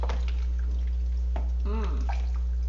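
Thick beef and four-bean chili, slow cooked for 12 hours, is stirred in an Instant Pot, giving soft wet squelches and a few liquid plops over a constant low hum.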